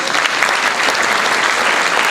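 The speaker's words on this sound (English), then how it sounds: "Give yourselves a big round of applause." Loud, sustained applause from a big crowd at an awards ceremony honoring honorees, dense clapping that holds steady throughout.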